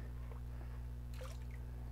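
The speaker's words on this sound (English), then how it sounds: "you saw the water spill out?" Water spills out of a blacksand flower gold trap with faint squishy, dripping splashes over a steady low mechanical hum.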